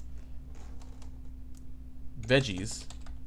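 A short burst of computer keyboard typing, a quick run of light clicks near the end of a quiet stretch, heard close under a low electrical hum.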